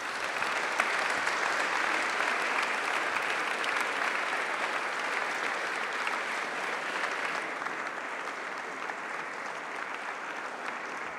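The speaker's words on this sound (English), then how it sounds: "Let's give Mr. Woods and Dr. Blasingame one more round of applause for this evening." A large audience at a university executive speaker event gives a sustained round of applause, dense and even clapping that fills the room for about eleven seconds before easing slightly toward the end.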